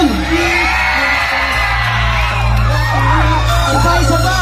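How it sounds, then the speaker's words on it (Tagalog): A large high school crowd at San Isidro National High School shouts, whoops and cheers loudly and continuously, a dense close roar of many voices with rising yells. "Gusto ko marinig yung sigawan ng San Isidro National High School."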